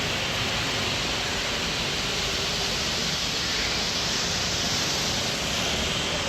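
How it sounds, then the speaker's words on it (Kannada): Sea waves at Pondicherry in the morning, a steady, unbroken roar of surf with no distinct breaks between waves and no voices. "ಅದು ಅಲೆಗಳ ಸೌಂಡು ಎಲ್ಲ ಎಷ್ಟು ಸಕ್ಕತ್ತಾಗಿದೆ ಮಾರ್ನಿಂಗ್ ವ್ಯೂ ಇಲ್ಲಿ"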